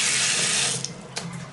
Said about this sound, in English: I'll do that again so you can see it's only the hot water. That drains nicely.